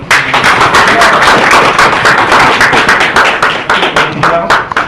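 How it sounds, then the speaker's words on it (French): An audience claps for Dr. Dissongo Jean II, pharmaceutical sciences figure at the University of Douala and hospital director, in a loud, dense burst of applause with distinct sharp claps, sustained throughout with a faint voice underneath. "Pour applaudir pour lui"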